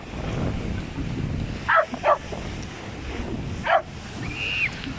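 A dog barks a few times on a windy beach, the short sharp barks standing out over steady surf and wind rumble.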